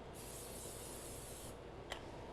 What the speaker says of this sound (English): I'm going to go ahead and spray this just a little bit with some olive oil.